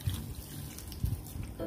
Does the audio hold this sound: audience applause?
no